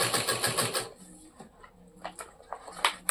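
A sewing machine stitching a bag from rock thread, a rapid rhythmic mechanical whir up close for about a second, then stopping and leaving sparse clicks and small knocks.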